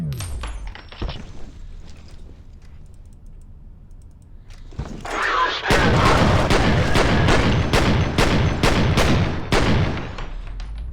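Dual guns firing in a shooter video game, a rapid run of loud sharp shots in quick succession after a quieter stretch of clicks and thuds.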